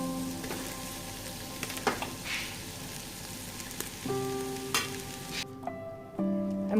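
Rice tipped into a hot pan of cooked capsicum and onions sizzles steadily, with a few sharper crackles and stirring scrapes. A tonal background hum sits underneath throughout, and the sizzle drops away briefly near the end.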